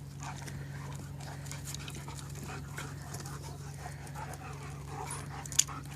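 A big dog pants heavily and rapidly during play, a quiet continuous breathy rhythm over a low background hum with one faint sharp tick.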